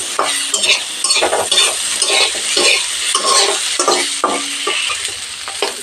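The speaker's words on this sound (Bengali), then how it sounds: "মিডিয়াম হিটে আলু ভেজে নেব" Potatoes seasoned with salt and turmeric fry on medium heat in a close, loud crackling sizzle, broken by repeated rhythmic stirring scrapes of a spatula against the pan.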